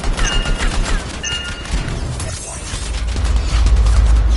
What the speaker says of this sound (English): I think the explosion destabilized the foundry